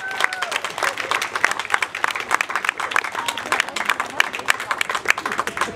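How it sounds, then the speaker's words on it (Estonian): A room of people at a collective farm party claps together in dense, close applause, with sharp individual hand claps clearly audible throughout and a voice speaking over it at times. "Aga me võime tal aplausi teha."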